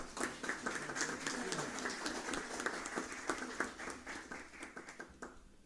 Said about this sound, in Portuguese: peço uma calorosa salva de palmas